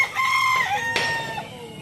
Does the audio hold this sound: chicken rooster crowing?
yes